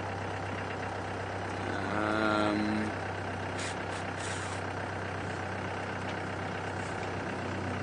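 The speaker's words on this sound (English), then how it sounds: "Trucks are heading in the opposite direction." Trucks rumbling past on a road during a game drive in South Africa, a steady loud engine and road roar throughout with a brief rising whine and air-brake hiss partway through.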